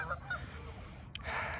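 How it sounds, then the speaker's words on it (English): Startled ducks give a few quiet honking, quacking calls at a distance, faint and brief over a soft outdoor background. "Oh, I scared the duck."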